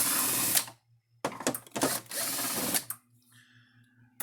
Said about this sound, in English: we're going to need a Phillips screwdriver. I got to take these two screws out here.